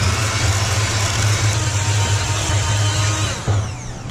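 An electric mixer runs steadily as molasses and vanilla are beaten into gingerbread cookie dough, a loud continuous motor hum with a brief dip near the end.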